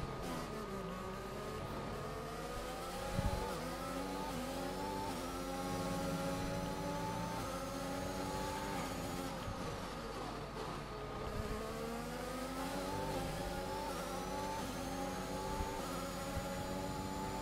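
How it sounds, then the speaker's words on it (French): Several F1 race car engines rev in the F1 2021 video game at the Brazilian Grand Prix, a dense high-pitched whine that climbs and falls steadily with gear changes throughout. "Pète pas ton putain de moteur, Castille."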